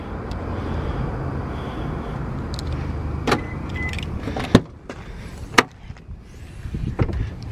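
Nissan 240SX unlocked with a remote at a brake and clutch shop: a few sharp clicks and clunks of the locks over a low idle background hum.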